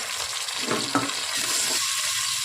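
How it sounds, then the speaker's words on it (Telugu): Ginger garlic paste with mint, coriander and onions frying in a pan for chicken dum biryani, a low steady sizzle with a couple of soft stirring scrapes, fairly close. "అదంతా పచ్చివాసన పోయేలా ఫ్రై చేసుకున్నాం"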